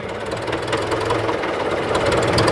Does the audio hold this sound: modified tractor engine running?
yes